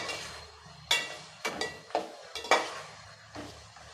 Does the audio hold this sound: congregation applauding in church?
no